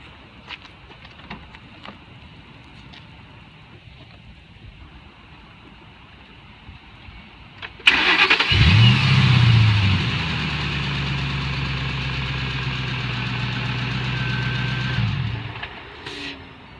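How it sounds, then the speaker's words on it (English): A car engine cranks and fires up after a throttle body swap, with a loud surge on startup that settles into a steady, rumbling idle for several seconds before cutting off. Quiet room noise comes before the start. "you can go ahead and start it up and see if you did everything right"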